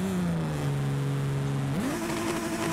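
Stock car engine in the Forza Horizon 5 racing game, held at a loud steady drone that sags slightly in pitch and then climbs sharply as the throttle opens, close and continuous throughout.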